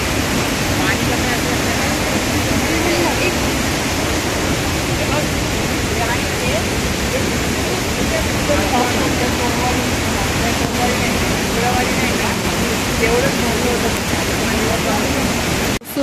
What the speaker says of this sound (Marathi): ऑलरेडी म्हणजे ना वॉटरफॉलचे तुषार अंगावर पडते